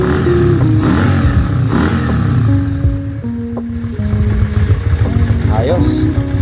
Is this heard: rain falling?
no